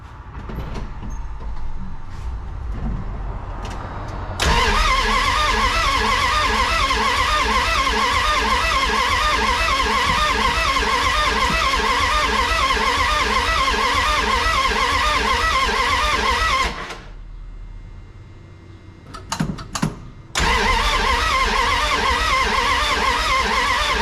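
Engine of a 1981 Dodge D150 truck starting and running, with a dense, rough, rhythmic idle that holds steady, then cuts out into a short quieter gap with a few knocks, and then resumes running.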